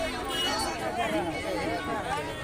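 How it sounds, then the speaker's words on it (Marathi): A dense crowd mills around the Peth yatra fair in Nashik, Maharashtra, a steady wash of overlapping voices and chatter with no break, close and loud. "खूपच गर्दी अशी आहे"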